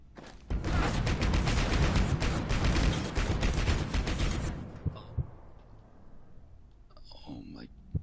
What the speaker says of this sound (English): I don't think I'm getting past that security turret.